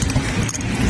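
A bunch of car keys jangles loudly and close by outdoors in snowy cold weather, a dense, continuous metallic rattling with no talk over it.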